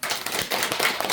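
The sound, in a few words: audience clapping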